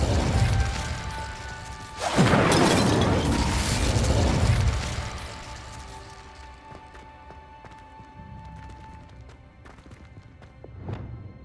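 Spell impacts in Hogwarts Legacy: a loud crashing burst of Confringo and Incendio with rumbling debris that slowly fades, followed by scattered small clicks and a final sharp hit.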